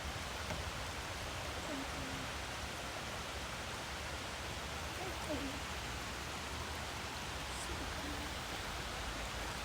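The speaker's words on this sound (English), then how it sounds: "Nice little mini waterfall up there." A small waterfall running into a stream at a Cosby, Tennessee campground, a steady broadband rush of falling water, continuous and fairly even throughout, with no clear talk.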